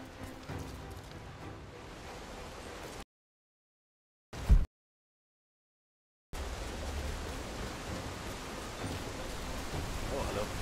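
Steady, loud rain hisses in Rise of the Tomb Raider, then drops into silence for a few seconds, broken only by one short burst, before the downpour resumes at full strength.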